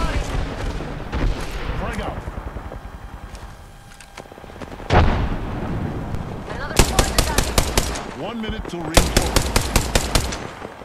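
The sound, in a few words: gunfire in the video game Apex Legends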